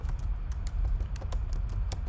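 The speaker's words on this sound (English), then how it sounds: "it will log the keys that I've pressed." Computer keyboard keys clack in a quick, uneven run of sharp taps, close and clear with no talking over them.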